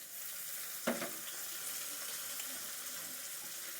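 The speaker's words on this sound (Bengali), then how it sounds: "লবণ দিয়ে ভালো করে টমেটোটা একটু ভেজে নেব।" Tomatoes fry in a pan with salt added over softened onion and green chillies, giving a quiet steady sizzle, with a brief clatter early on, then a low continuous hiss throughout.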